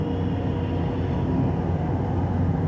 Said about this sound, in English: listen to the good old train going by.